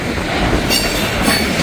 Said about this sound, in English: Now, looks like we got a grain train here.